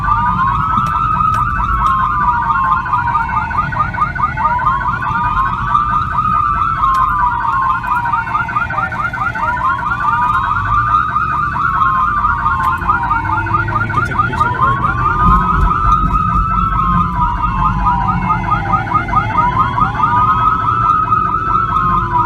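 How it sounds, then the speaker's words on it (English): A police car siren during a pursuit wails loud and close in steady, repeating rising and falling cycles that run without a break over a low road rumble. "Turn down the siren"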